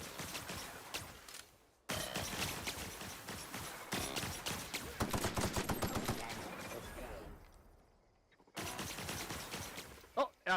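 Heavy weapon gunfire in the video game The Outer Worlds: loud sustained bursts of rapid shots in long runs, broken by short silent gaps, with brief talk at moments.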